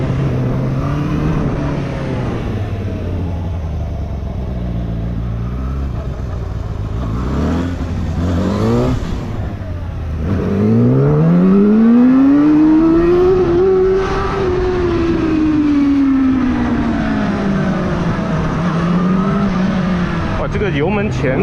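A KOVE 450R four-cylinder street motorcycle pulls away and accelerates under way, its engine note climbing steadily and then falling again, loud and close, with people talking over it.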